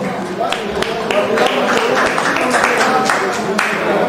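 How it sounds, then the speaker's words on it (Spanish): Audience applause at a live show for a guest speaker, a steady patter of many hands clapping mixed with loud crowd murmur and talk. "Aplausos para Martín Rodríguez"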